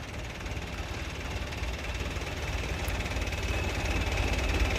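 A four-wheel-drive tractor idles steadily nearby with a low, continuous engine rumble and slight vibration, growing a little louder toward the end, with no talking.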